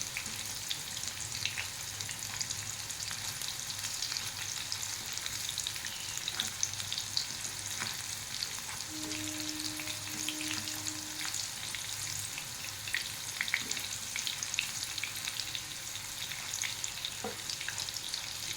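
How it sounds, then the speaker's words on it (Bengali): Chicken kurkure pieces frying in oil make a continuous, even sizzle with light crackling and occasional stirring clicks, close and moderately quiet, with no voices. "উল্টে পাল্টে একটু ভেজে নিতে হবে।"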